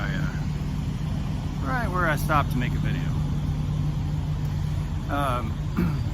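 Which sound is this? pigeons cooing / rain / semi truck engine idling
semi truck engine idling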